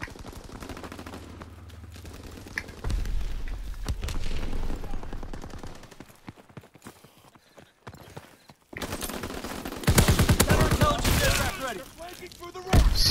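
Shotgun blasts in the World War II shooter Call of Duty WWII, sharp bursts of gunfire amid game effects, with loud shots near the end and players chatting over the action.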